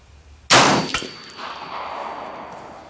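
A single sharp rifle shot cracks from an M1A fired at an outdoor range, close and loud, followed by a metallic clang and a ringing decay.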